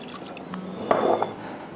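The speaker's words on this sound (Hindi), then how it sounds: "मैं इस पर थोड़ा पानी डालूँगी" Water poured from a vessel over chicken pieces in a pot while cooking chicken shorba, a short splashing, gurgling trickle lasting about a second, close and moderately loud.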